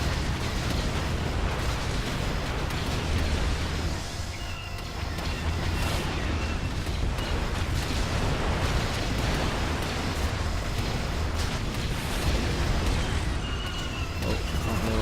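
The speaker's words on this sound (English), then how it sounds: "These alliance tanks are really annoying with their barrage of rockets." Rocket barrage explosions from alliance tanks in the Star Wars Battlefront 2 video game, a dense, continuous roar of booms and rumbling blasts lasting throughout, loud and unbroken with no voices.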